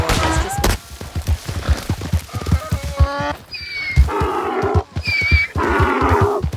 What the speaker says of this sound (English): It's fucking donkey, man.